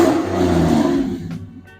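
A 2017 RAM 1500 pickup truck engine revs, a loud, close throaty roar held for about a second and a half before cutting off abruptly.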